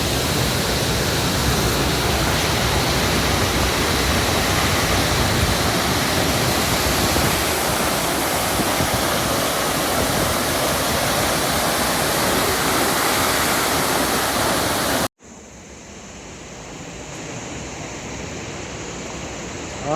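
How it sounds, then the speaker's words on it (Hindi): A large waterfall on the Madhyamaheshwar temple trek roars as a loud, dense, continuous rush of falling water, then cuts abruptly to a softer, more distant watery hiss for the final seconds. "एक बहुत ही बड़ा झरना, जिसे देख के आपकी आत्मा तृप्त हो जाने वाली है"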